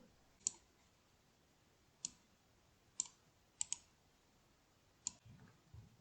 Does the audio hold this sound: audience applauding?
no